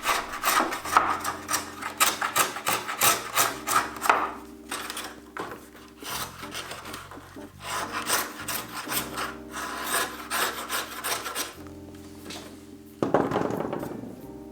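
A wooden model part for a Gundam-style robot is hand-finished with a file or rasp after belt sanding, giving loud, rhythmic rasping strokes in bursts separated by short pauses.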